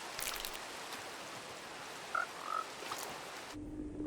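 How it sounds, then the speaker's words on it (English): Minecraft frogs in a small breeding enclosure give a few short croaks in the middle of the clip, over a soft, steady rain-like ambience. "in order to get the frogs, I made a tiny little enclosure to breed them"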